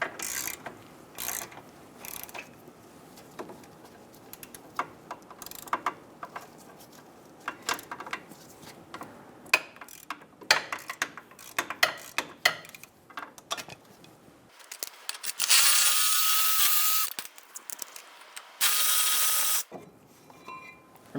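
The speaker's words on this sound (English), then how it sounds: "remove the caliper bracket bolts." A ratchet with a 17mm socket removes the front brake caliper bracket bolts on a 2010-2014 Subaru Outback: rapid ratcheting clicks in short bursts, then two louder, harsh sustained bursts near the end, all without speech.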